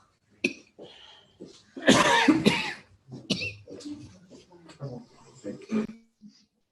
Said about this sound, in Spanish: Cuidado con esa tos, compañero.